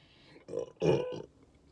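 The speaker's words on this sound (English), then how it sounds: "I'm not meaning to burp into the phone." A short, close burp from a person with acid reflux erupts into a phone, followed by a louder, longer belch, with quiet room noise around it.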